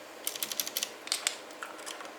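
Keys clack on a Logitech G Pro X mechanical keyboard fitted with Cherry Red linear switches: a quick burst of about a dozen crisp, close keystrokes in two short clusters, with no talking.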